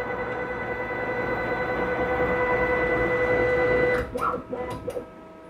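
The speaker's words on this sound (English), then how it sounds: "when the y-axis homes, take note of this change in sound" A 3D printed CNC machine runs its y-axis homing routine, a steady motor whine with mechanical drive noise that shifts and breaks into short stuttering bursts near the end as the axis reaches home, close and continuous.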